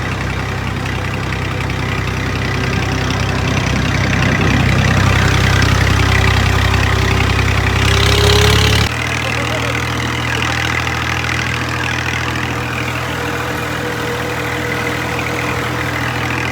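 A power-steering tractor's diesel engine idles loudly nearby, a deep steady rumble that swells briefly before settling abruptly to a smoother, lower idle partway through.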